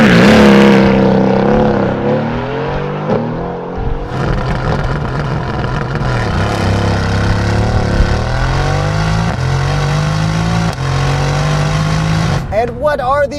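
The handcrafted 4-liter twin-turbo V8 of a 2020 Mercedes-AMG GT R runs loud and close, holding a deep, steady drone with a rising rev near the end.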